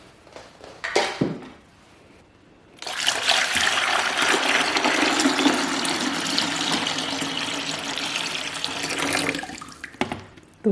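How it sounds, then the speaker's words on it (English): Tap water pours steadily into the reservoir of a countertop bullet-ice maker, filling it toward the fill line at about three quarts. The flow is a loud, continuous rush lasting several seconds, framed by short clicks and handling noises. "The water goes up to the fill line, which is approximately 3 quarts of water."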